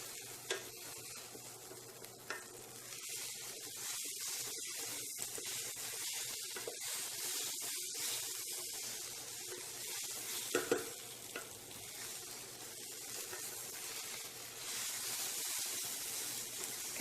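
Egg bhurji (muttai podimas) sizzles and fries steadily in an oiled pan as it is stirred, a continuous close hiss with scraping stir strokes throughout, no talk.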